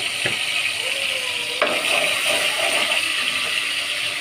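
Ginger and garlic paste frying in hot oil for a homemade fish curry, a steady bright sizzle with a couple of sharp clinks of a utensil against the pan.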